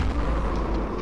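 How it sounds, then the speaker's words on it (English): A loud, dense rumble of explosions erupts in the video game Killing Floor, a brief burst of heavy low booming that fills the whole moment. "Explosions."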